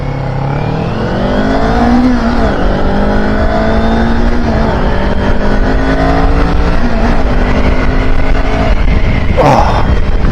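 A 2023 Kawasaki Ninja 400 motorcycle engine rises and falls in pitch through gear changes while riding, loud and close, with wind rush and a brief sharp burst near the end.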